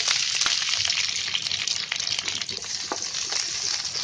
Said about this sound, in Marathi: आता याच्यामध्ये आहे ना मी आता कांदा टाकते.